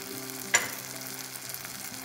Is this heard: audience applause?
no